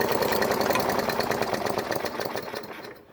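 A Bolens 5 hp push mower engine with a plastic carburetor sputters and labors unevenly, loud and close, never revving up, then fades and cuts out near the end.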